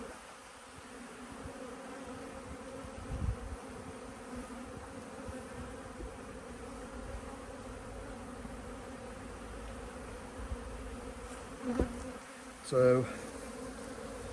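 Honeybees buzz steadily around an open hive during an inspection, a soft continuous drone with a few brief closer passes near the end and a short spoken word.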